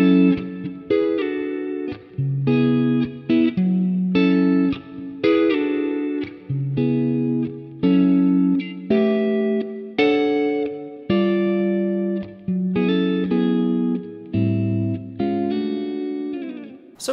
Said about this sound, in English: And behind that are the chorus chord changes, which sound kind of like this.